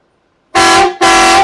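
Marco Italy Extreme Blast truck horn fitted to a 2016 Toyota Hilux sounds two loud, close blasts, a half-second blare followed after a brief gap by a longer one, with a rich, brassy multi-tone chord.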